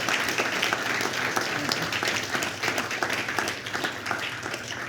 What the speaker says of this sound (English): I would like to give Tommy a round of applause if it's not going to embarrass him.